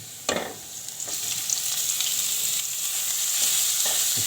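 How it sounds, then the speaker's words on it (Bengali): Nasturtium greens (helencha) fry and get stirred in a hot pan: a steady sizzling hiss with a few soft scraping knocks from the stirring, close and fairly loud. "সবটা দিয়ে এইভাবে উলট পালট করে নাড়াচাড়া করে দেবো সব কিছুর সাথে মিশিয়ে দেব"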